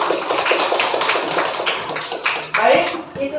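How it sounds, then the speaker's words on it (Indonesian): Children in a classroom clap for class 3, a dense, steady patter of hand claps running throughout at close range with a brief louder burst near the end, with children's voices mixed in. "tepuk tangan buat kelas 3"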